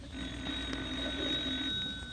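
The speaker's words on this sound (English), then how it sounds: "Is that the phone, Sheriff?" An old-fashioned telephone bell rings steadily in a sheriff's office scene from a vintage radio comedy, a continuous bright ringing over a low background hum.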